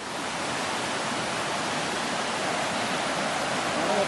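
Floodwater rushes after heavy rain in the Sathyamangalam area of Tamil Nadu, where a footbridge is submerged. The broad, continuous roar of fast-flowing water stays loud and steady throughout, with no voices.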